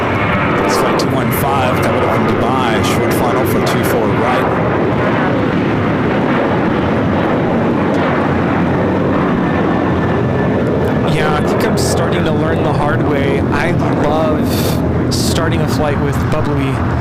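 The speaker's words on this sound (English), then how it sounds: "we have the Emirates A380" An Emirates A380 airliner on short final for runway 24 right at LAX gives a loud, steady, broadband roar that fills the whole stretch, with faint voices talking under it.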